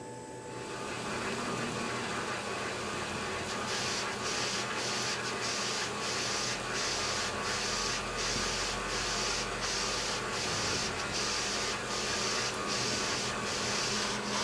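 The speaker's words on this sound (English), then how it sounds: "the print head is sliding back and forth, dropping ink down as it goes" A DTG direct-to-garment printer's print head slides back and forth printing, giving a steady mechanical whir with rhythmic repeating passes and a constant motor hum, close and alone.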